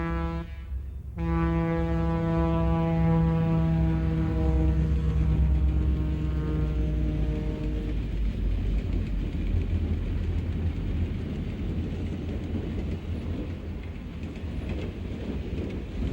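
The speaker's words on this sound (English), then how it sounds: "E74 and E70 have gone in the hole for E77 and 3 diesels westbound over Stetson Bridge." Milwaukee Road diesel locomotives, led by an FP45, cross Stetson Bridge westbound, sounding a long, loud multi-tone horn blast over the rumble, then a steady close roar of engines and rolling wheels that continues to the end.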